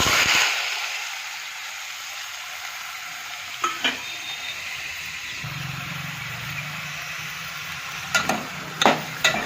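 Cumin seeds crackle and sizzle steadily in hot oil close by, with a few sharp clinks of a spoon stirring against the pan.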